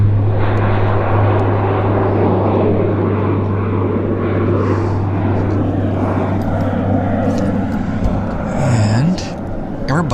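A Central Mountain Air Beech 1900 cargo plane at Vancouver YVR airport gives a loud, continuous propeller-engine roar with a steady low hum, close and dominant, easing slightly toward the end.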